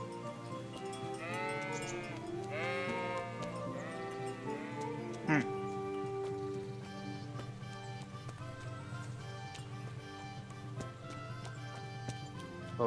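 Several video game sheep bleats ring out early on, wavering and nasal, over a steady bed of game music and ambient tones.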